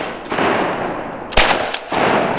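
Shotgun blasts during a waterfowl hunt in Oklahoma: one sharp, loud report cracks out near the middle, with a few lighter bursts around it over a steady outdoor background.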